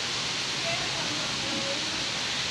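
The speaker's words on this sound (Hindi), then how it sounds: "आज भी बहुत हैवी बारिश है।" Heavy rain falls steadily outdoors in a broad, continuous hiss, with water collecting on the floor below; the sound is constant and fairly near, with no clear talking over it.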